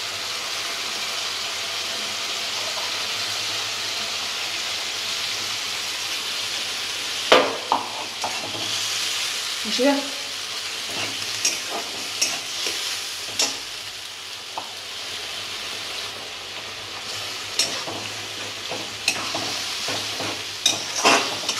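Ground spice paste fries for a gravy in a hot pan, a continuous close sizzle punctuated by irregular clanks and scrapes of stirring, with no voices.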